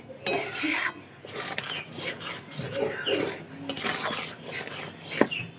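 Palm fruit puree thickens in a wok while a metal spatula scrapes and stirs it in steady, close, fairly loud strokes, with occasional clinks against the pan.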